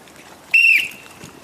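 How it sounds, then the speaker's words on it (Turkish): A single short, sharp whistle blast starts a balloon-popping archery game, ringing out loudly, then fading against a quiet background. "Bir dakika süren düdük sesiyle başlıyor."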